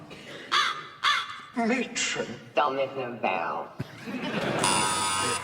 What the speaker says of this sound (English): I think that's a carry-on crow.